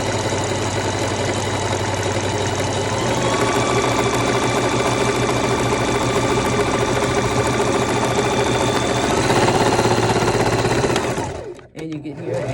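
A sewing machine stitches a hem, running in one loud, continuous mechanical whir for about eleven seconds before stopping abruptly, with a brief rustle afterward.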